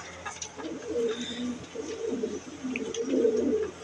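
Chuha breed pigeons coo softly in short repeated low phrases, close by, with faint background noise and light chirps.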